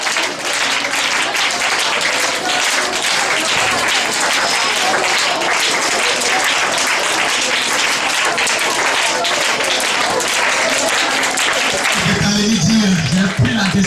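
A church congregation applauds loudly and steadily throughout a Sunday worship service, dense clapping mixed with cheering, and near the end a voice rises over the applause.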